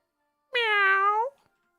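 A human voice imitates a cat with a single clear, drawn-out meow of under a second, close and alone against silence.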